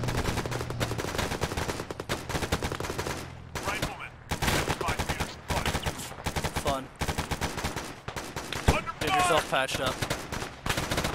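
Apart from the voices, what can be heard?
gunfire in a military video game operation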